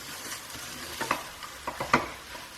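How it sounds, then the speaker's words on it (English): Garam masala stirred through frying cabbage and chana dal in a pan: soft sizzling beneath a handful of scraping stirs that cluster near the end, close by and with no talk. "mix that garam masala through for a couple of minutes"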